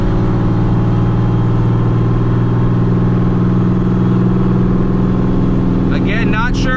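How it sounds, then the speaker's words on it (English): A loud, raspy straight-piped exhaust on a supercharged Pontiac GTO drones steadily at high revs, a constant, throaty rumble filling the whole clip. "I'll show you guys real quick just what this thing sounded like when it was straight piped"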